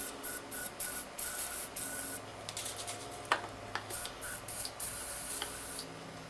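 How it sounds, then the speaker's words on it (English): Short bursts of WD-40 aerosol spray hiss into the ports of an EGR valve, repeated several times with brief pauses, followed by a few faint clicks and taps, close by. "take more of your WD-40, spray it into your ports"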